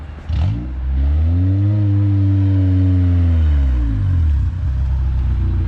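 A Honda Civic del Sol with a Tanabe Medallion exhaust accelerates hard, the loud, raspy engine note climbing and then easing off over a few seconds, close and droning.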